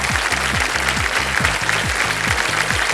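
Studio audience applause on the Indian quiz show Kaun Banega Crorepati, a steady dense clapping wash with a bright musical beat running underneath throughout.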